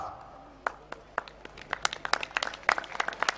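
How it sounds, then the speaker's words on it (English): Scattered clapping at a school annual function, starting sparse and building into a denser run of separate claps from a modest audience, close and moderately loud with faint murmuring beneath. "I think the children deserve your applause."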